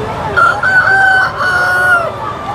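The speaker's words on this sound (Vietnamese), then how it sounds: "Chỗ này bán rất nhiều gà luôn." Roosters crow loudly and close by at the Mai Chau market in Hoa Binh, Vietnam, with long drawn-out calls over faint clucking and background noise.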